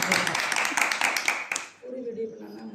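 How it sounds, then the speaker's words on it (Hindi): An audience clapping during a Hindu wedding ceremony gives a short burst of brisk, close applause, which fades as a voice begins speaking. "तालियों की सेवा करिए भाई।"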